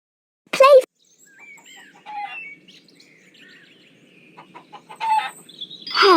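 A hen clucks in short, close bursts on a farm, with a brief loud call at the start and softer chirping clucks after it.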